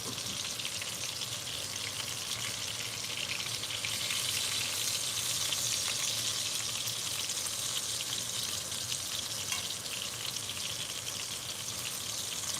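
Hamburger steak and onions fry in a cast iron skillet, giving a dense, steady sizzle and crackle that stays even and fairly close throughout, with no voices.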